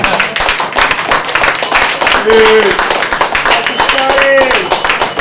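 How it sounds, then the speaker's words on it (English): An audience claps loudly and continuously in a dense, rapid patter, with a voice calling out over it. "keep the applause going"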